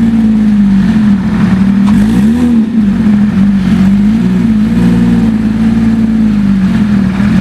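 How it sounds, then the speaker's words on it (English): A loud, raw straight-piped Porsche GT3 RS engine revs and holds a steady, throaty drone, with a brief rise in pitch partway through, close by and continuous. "Straight pipe GT3 RS. So sick."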